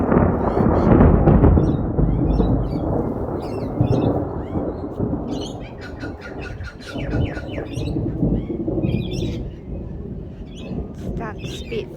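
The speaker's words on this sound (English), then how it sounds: "We got thunder. Yes, we do." Deep thunder rumbles steadily over an outdoor yard during a gathering storm, a rolling low roar that swells early and lingers, with birds chirping and tweeting in short bursts above it.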